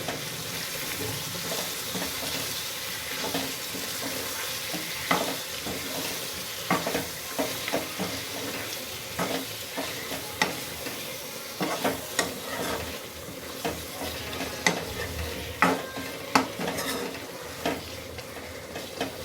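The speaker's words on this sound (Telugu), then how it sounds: "ఇప్పుడు అంతా బాగా కలుపుకోవాలి." Telangana-style chicken fry sizzles in a pan while a utensil stirs it, giving repeated scraping knocks over a constant crackle, close and unbroken by speech.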